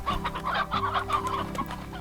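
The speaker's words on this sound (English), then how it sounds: "there's way too many of these hens anyway" Hens clucking in the farming video game Slime Rancher, a dense flock of fowl clucking and chattering continuously and fairly loud, with no talk over them.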